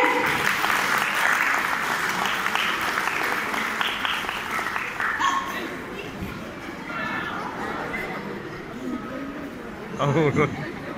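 Guests applaud at a Christian wedding, a loud sustained round of clapping over murmuring crowd chatter that fades midway, then a fresh burst of clapping near the end.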